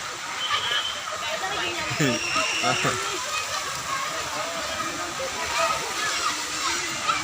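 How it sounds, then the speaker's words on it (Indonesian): Water splashes and rushes steadily at a water park beside a road, a broad continuous wash of sloshing with some passing traffic noise underneath. "Samping kita nih water park."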